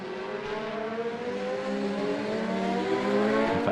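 Racing motorcycles, mostly BMWs and Hondas, scream past during qualifying at the 2025 Macau Grand Prix street circuit. Loud, high engines rev and climb in pitch, one blending into the next, and nobody speaks.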